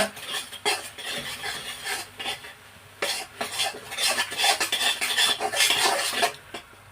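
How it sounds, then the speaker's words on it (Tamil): Gram flour stirred into hot ghee for Mysore pak, with continuous close scraping and rubbing strokes of a spoon against the pan in an irregular rhythm, plus a faint sizzle beneath. "இப்படியே நெய்யும் கடல மாவு நல்லா கலக்கி விடுங்க"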